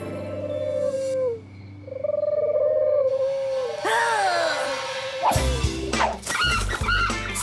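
A cartoon pigeon gives warbling, cooing calls and squawks, followed by sudden loud clattering bangs near the end.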